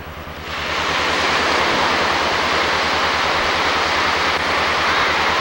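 Ocean waves breaking and washing onto a sunny, hot Florida beach, a steady loud roar of surf that swells in after a quieter first half-second and holds constant, with no talk.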